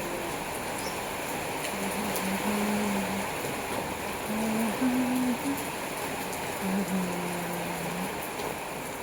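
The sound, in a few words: heavy rain in a village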